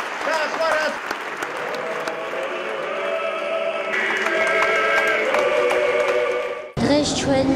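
Sustained applause from a large audience fills the Tbilisi Opera and Ballet Theatre at an 80th jubilee concert, a dense, continuous clapping that swells slightly and carries on with voices underneath.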